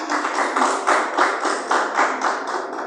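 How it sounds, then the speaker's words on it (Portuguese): A church congregation claps together in a dense, rhythmic burst of hand claps, loud and close, with regular accented beats and no talking. "Palmas para Jesus"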